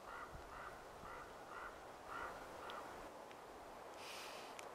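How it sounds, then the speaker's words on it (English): A raven calls in the forest with a series of about six hoarse croaks at an even rhythm, faint and distant over a steady outdoor hiss, followed by a brief higher sound at the end. "Sounds of the forest, man. Elk bugles and raven calls."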